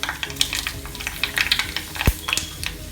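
Mustard seeds crackle and pop in hot oil together with fenugreek and halved dried red chillies for Kerala-style cucumber pulissery, a quick scatter of sharp ticks and spits over a steady sizzle, close and loud, one strong pop near the end.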